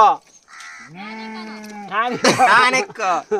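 Goats bleating close by, several drawn-out calls overlapping one another, loud and wavering.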